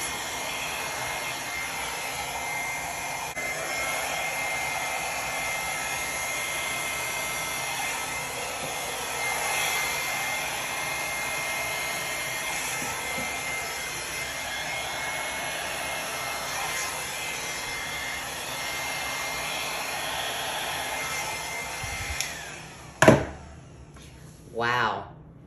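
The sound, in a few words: small hair dryer blowing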